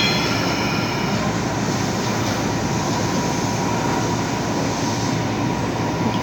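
Loud, steady rumble of a train moving past at a station, a dense continuous roar with wheel and carriage noise filling the clip from start to finish.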